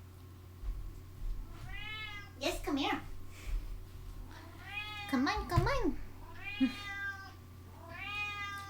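A pet cat meows repeatedly while being called over for treats indoors. There are several drawn-out, rising and falling meows at close range, mixed with a person's coaxing speech and a low steady hum underneath.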